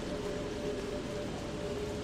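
Steady rain falls during gameplay in the survival game Don't Starve, a continuous broadband hiss of drops at constant loudness with a faint tonal hum from the game's sound underneath, no voices.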